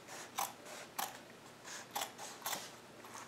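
Scissors trimming the seam allowance on the underside of a flat fell seam in dressmaking fabric: four faint, evenly spaced snips, each one short and crisp, in a quiet room.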